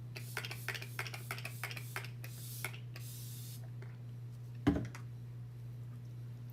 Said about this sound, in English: it's a setting spray by Pacifica Beauty, and it smells really good